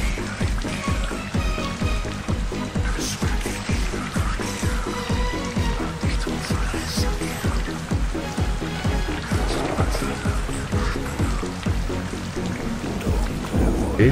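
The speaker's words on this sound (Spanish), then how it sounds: "Parece que esta lluvia no va a parar." Heavy rain in a stormy scene falls as a dense, continuous hiss, with rhythmic low thuds pulsing steadily underneath throughout. The sound stays loud and even, with no speech.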